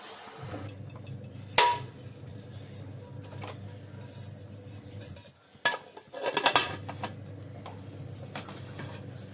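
Metal clinks and a clatter as a cake tin is set inside a pressure cooker and the lid is closed, a few scattered knocks over a low steady hum.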